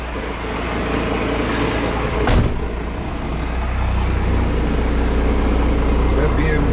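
A Cummins-engined Boss Hoss van pulls away, its diesel engine rumbling loud and close with a sharp clunk early on, and the drone builds as it moves off while people talk.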